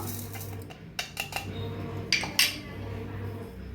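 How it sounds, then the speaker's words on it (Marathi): Coriander and fennel seeds tipped into a kitchen mixer jar give a few short, close clinks and rattles, scattered over a quiet room hum. "मिक्सरात टाकूया धन आणि बडीशिपू"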